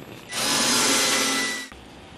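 Power drill driving a screw into a kitchen lazy susan base cabinet, one steady close whir of about a second and a half that cuts off abruptly, with a faint click after.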